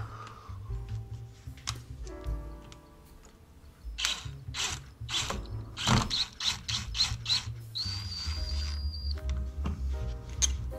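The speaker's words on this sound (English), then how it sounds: "now we're going to put the Phillips head screws back in that were holding the other brush holder to the cap." Phillips head screws being driven back into the brush holder cap of a Nissan starter during a rebuild, heard as repeated ratcheting clicks and short bursts of driver whir, close and fairly loud with no talking.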